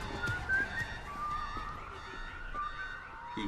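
Someone whistles a song's melody in short, clear phrases over a quiet musical backing during a reaction to a song, moderately loud and close, with no talking.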